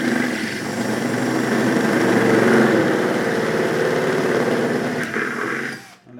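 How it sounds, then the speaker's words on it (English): A handheld drill runs continuously as it bores a hole for a pixel globe in a Christmas light display, a loud steady whine that winds down at the end. "you're going to have to push firm enough to get it to drill"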